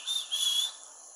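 A person imitates a whistling sound they heard, producing a breathy, high whistle in two swells over about a second, moderately loud with hiss around it and no speech.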